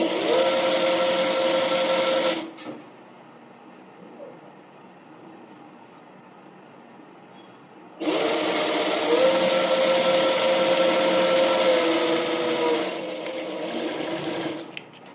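A sewing machine stitches a fabric bonnet in two long, loud, close runs of rapid whirring, separated by a quiet pause of about five seconds, with no talk.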